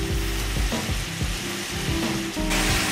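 Lamb pieces sizzle loudly as they are returned to a hot pan for stew, with steady frying crackle throughout and a brief burst of brighter spatter near the end.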